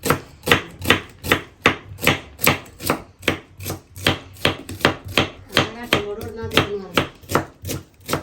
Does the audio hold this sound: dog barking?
no